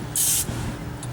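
A short, loud hiss of spray hitting a hot Char Griller 5050 charcoal grill, lasting under half a second, followed by a fainter second spritz over low background hum.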